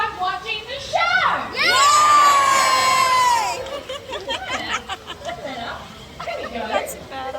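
Crowd of children cheering and shouting in an arena during a bird show at a wildlife park, a loud sustained roar with a high whistle-like squeal rising above it, then scattered chatter.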